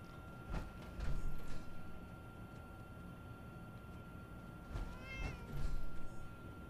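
A video game cat in Fallout 4 meows a few times, faint and somewhat distant, over a quiet background hum, with a short gap between the calls.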